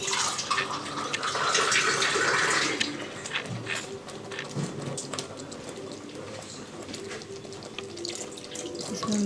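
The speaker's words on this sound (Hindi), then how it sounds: "इसमें मैं थोड़ा सा पानी ऐड कर रही हूँ" Water poured into kadai paneer gravy in a clay kadai: a steady splashing, running-water rush that is loud for the first few seconds, then gives way to quieter stirring and clinks with no talk.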